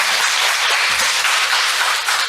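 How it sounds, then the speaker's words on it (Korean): Audience applause at a prayer gathering: a dense, steady wash of clapping from many hands that fills the room at close range, with no voices over it. "큰 격려의 박수 부탁드립니다"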